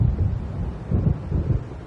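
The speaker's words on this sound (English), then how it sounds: "It seems there's a storm coming." A storm approaches in the Alan Wake Remastered video game: low thunder rumbles in a few soft swells over steady wind noise, distant and fairly quiet, with no speech.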